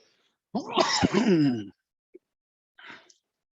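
A teacher sneezes once, loud and close, during an online thermofluids class, followed by a couple of faint small noises and otherwise silence, with nobody talking.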